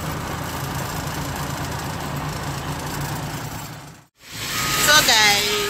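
A wheel loader's diesel engine idles steadily during barge loading, a loud continuous rumble that cuts out abruptly for a moment before resuming, with a voice briefly heard near the end.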